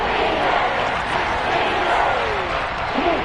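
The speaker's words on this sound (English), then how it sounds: "the crowd getting into it as we come up on a big 3rd down" A football video game stadium crowd roars steadily and loudly ahead of a big third down, a dense, continuous wash of cheering with no breaks.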